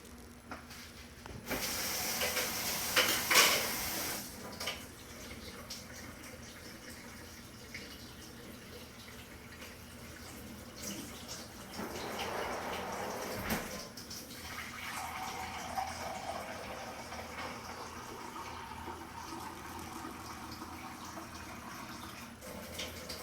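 Warm tap water, about 110 degrees, runs and pours for pizza dough, a steady hissing flow that swells in bursts and keeps on through the clip with no talking.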